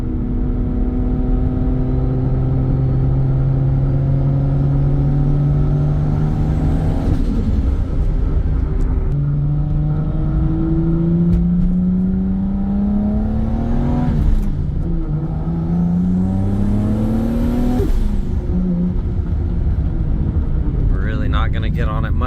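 A 1993 Toyota Supra Turbo with its 2JZ engine accelerating hard through several gears, the loud engine note climbing in pitch, dropping at each shift and rising again, with a sharp turbo whine near the end, heard from inside the car.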